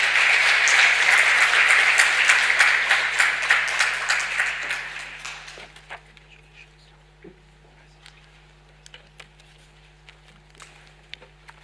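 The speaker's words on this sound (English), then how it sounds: "I would ask all of us to thank the panelists with a round of applause." A conference audience gives the panelists a round of applause, dense clapping that tapers off over about six seconds and leaves scattered single claps in a quiet room.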